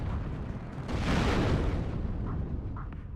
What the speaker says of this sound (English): They just keep up that rapid fire with those cannons.